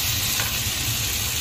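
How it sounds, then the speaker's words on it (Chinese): Onion and garlic cloves hit hot oil in a wok while scallion-fried lamb is cooked, giving a loud, steady, close sizzle that fills the whole moment with no one talking. "好，现在把洋葱入锅，放入蒜瓣"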